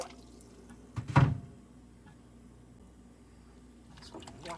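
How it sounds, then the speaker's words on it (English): Raw chicken being washed in vinegar and water in a kitchen, with one short wet splash and squish of liquid, then quiet drips and faint handling. "So I'm washing it off in the vinegar."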